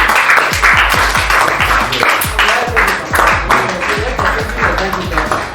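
A church congregation claps in a steady, rhythmic beat, loud and close, for several seconds, with voices mixed in beneath the clapping.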